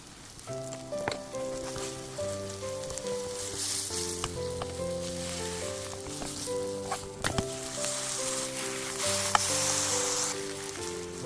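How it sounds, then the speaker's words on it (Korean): Steady sizzling of dried pollack frying in an oiled pan, with occasional pops and crackles and a faint tonal hum underneath, continuous throughout. "팬에 기름을 두르고 황태를 노릇노릇하게 지져 구워줍니다"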